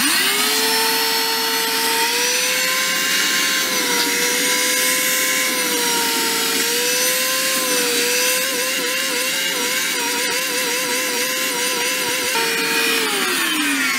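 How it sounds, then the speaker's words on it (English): A vacuum cleaner whines steadily up close while cleaning car seats, its pitch wavering slightly as the nozzle moves, then winding down at the end; no one speaks. "And then we get the vacuum cleaner going."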